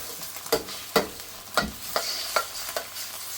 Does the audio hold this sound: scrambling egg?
yes